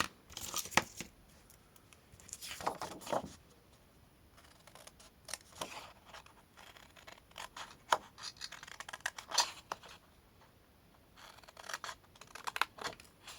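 Scissors cutting paper or cardboard pieces for a handmade scrapbook box, with bursts of crisp snipping and rustling at close range and short quiet gaps between the cuts.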